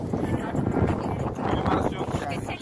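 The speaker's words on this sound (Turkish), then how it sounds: "burası çok serin ve rüzgarlı" Strong wind on a hillside in Maşukiye, Kocaeli, Turkey buffets the microphone in a steady, loud roar throughout.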